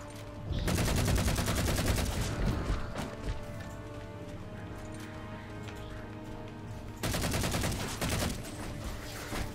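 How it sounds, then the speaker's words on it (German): Halo 4 campaign combat: dense, rapid gunfire in two loud sustained bursts, one early and one near the end, with quieter rattling action and a low steady hum in between. "irgendjemand schießt mich doch an"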